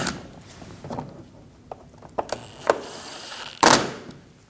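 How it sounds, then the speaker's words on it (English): Screws are driven up through the front bumper of a 2012–2022 Volkswagen Passat. Short sparse ratcheting clicks and taps sound close by, ending in a louder burst near the end. No one speaks. "Install the screws up through the bumper."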